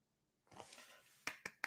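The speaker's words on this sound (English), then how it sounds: "Little golf clap for TJ performing the ad there" Three light, soft golf claps ring out close by in quick succession, following a brief stretch of low rustling.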